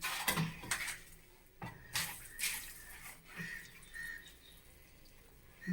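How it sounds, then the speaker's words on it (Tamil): Water poured and splashed during toilet-seat installation work, mixed with scraping, knocks and clattering handled objects, fairly faint and close, in short irregular bursts. "தண்ணி ஊத்து."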